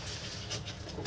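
A domestic pigeon gives soft, low coos in a brief, quiet burst, close by but faint against a steady background hiss, with no one speaking.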